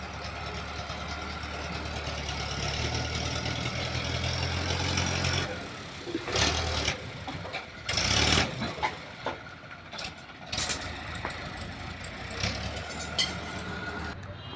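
A tractor engine runs steadily at a house construction site where the ground is being leveled for a large hall and kitchen, a low continuous drone that turns rougher and more uneven partway through.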